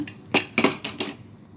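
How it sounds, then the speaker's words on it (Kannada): A metal pressure cooker lid clanks shut over mutton gravy with field beans, four quick close metallic knocks and clatters in a row. "ಇವಾಗ ನಾನು ಕುಕ್ಕರ್ ಮುಚ್ಚೋಕ್ಕೆ ಮುಚ್ಚೋಣ"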